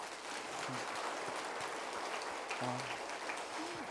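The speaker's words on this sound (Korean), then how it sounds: "은혜 주신 하나님께 영광의 박수 한번 해요" A congregation at a New Year revival meeting gives a soft, distant wash of applause, a faint steady patter with a few brief voices surfacing.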